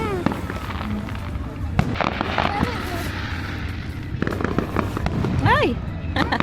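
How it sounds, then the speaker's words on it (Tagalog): Canada Day fireworks crack and pop in scattered bursts outdoors, fairly loud, while family members talk and a voice rises over the explosions. "let's enjoy the fireworks."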